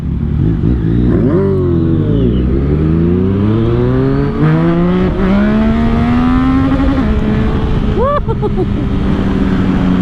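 A tuned 2022 Yamaha MT-09 motorcycle, ECU-tuned three-cylinder, pulls hard through rising revs with upshifts, loud engine and wind roar throughout as a rider talks over it.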